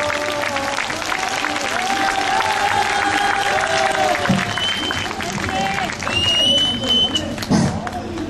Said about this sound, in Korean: 목사님 나오실 때 뜨거운 박수로 맞이해 주시기 바랍니다